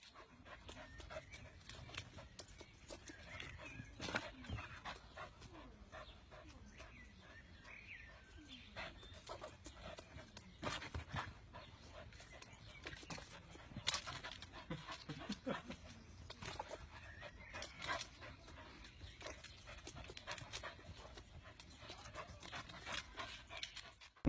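A dog pants in a short animal clip, with rapid, steady breathing running throughout at a soft level, mixed with faint scraping and occasional bird-like chirps.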